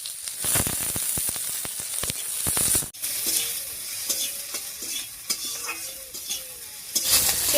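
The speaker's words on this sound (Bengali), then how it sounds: "পেঁয়াজ, রসুন আর কাঁচা লঙ্কাটা বেশ ভাজা ভাজা মতো হয়ে গেছে।" Chopped onion, garlic and slit green chillies frying in hot oil in a pan while cooking bottle gourd leaves, with a steady loud sizzle and repeated stirring and spatula scrapes throughout.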